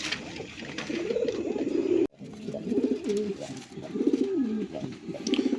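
Domestic deshi rasgolla pigeons coo close by in repeated low, rolling phrases that run almost continuously, broken once by a brief silent gap.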